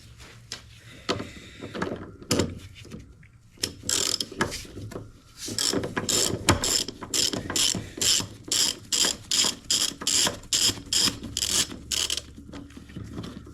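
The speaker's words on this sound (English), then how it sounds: "Where'd my ratchet go?" A ratchet wrench works on a 1994 Acura Integra during a control arm replacement, clicking in a few scattered turns and then a long, steady run of sharp, evenly spaced clicks up close.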